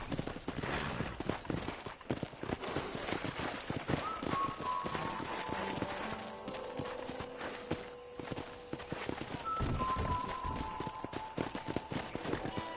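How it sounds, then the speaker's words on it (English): Horses clip-clop and trot across the ground in the Red Dead Redemption video game, with steady hoof beats and rustling over a soft tonal music bed. "let's see if we can't wrangle some horses"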